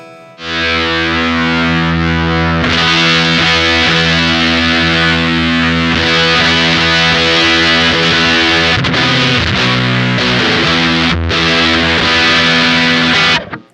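Electric guitar driven hard through an overdrive pedal, loud and saturated throughout, sustained distorted chords ringing with brief breaks between strums, played alone with no talking.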